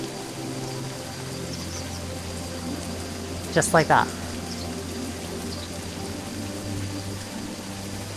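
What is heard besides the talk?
rain in a Quest 2 VR game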